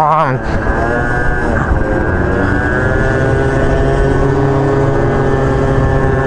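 Deep engine roar from large motorcycles accelerating, a loud sustained rumble with rising pitch, overlapped by excited voices nearby.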